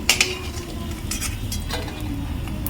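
Bori, lentil dumplings, frying in a pan of spiced oil, a continuous sizzle broken by sharp clinks and scrapes of a metal spatula stirring against the pan.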